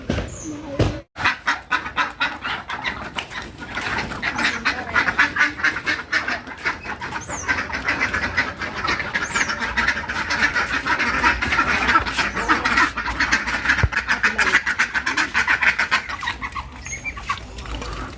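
Pet birds kept on a rooftop, with grown chicks among them, raise a busy, continuous chorus of quacking and clucking fowl calls, loud and close, lasting throughout with no talk.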